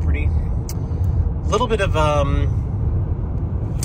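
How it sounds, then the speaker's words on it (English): A car driving along a road beside Disney property, steady close road and engine rumble throughout, with a person talking briefly over it midway. "Driving down the western side of Disney property"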